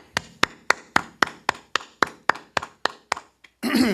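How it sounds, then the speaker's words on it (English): Members of a Wednesday night class clap together in about a dozen sharp, evenly spaced claps, loud and close, before the rhythm stops and a burst of rustling noise follows. "All right, clap it up, clap it up."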